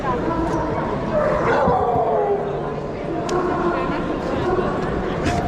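Wolfdogs bark and yip repeatedly amid a noisy crowd at a pet fair, with whimpering mixed in and voices talking in the background.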